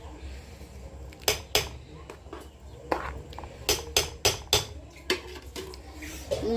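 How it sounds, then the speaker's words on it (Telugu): Metal lid set onto a cooking pot of paramannam, a series of sharp close clanks and taps, some in quick succession, over a quiet kitchen background. "మూత పెట్టేద్దాం"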